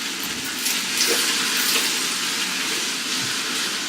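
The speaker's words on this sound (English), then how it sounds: "We're gonna drop the vegetables into the pot" Vegetables hit a hot pot for chowder and set off a loud, dense, steady sizzle that fills the whole moment close up, with no speech over it.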